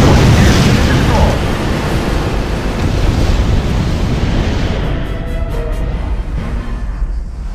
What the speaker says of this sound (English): Everybody likes big explosions, right?